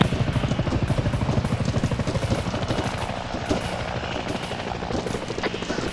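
A military helicopter in the video game Arma 3, heard up close as a loud, rapid rotor chop with a deep rumbling throb that holds steadily throughout, with faint radio-style chatter underneath.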